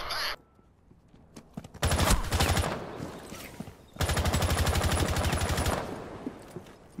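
Automatic gunfire in Rainbow Six Siege, loud and close, in two long rapid bursts separated by a short pause, with a brief sharp noise at the start and no voices.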